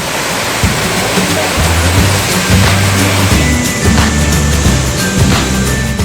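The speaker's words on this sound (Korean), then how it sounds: "여기는 폭류 폭포. 전날 비가 많이 와서인지 폭포수가 제대로 떨어진다." Loud, constant roar of Pokryu Falls in Ulsan's Yeongnam Alps, swollen after heavy rain the day before, crashing down nearby, a dense rushing wash of water with no break.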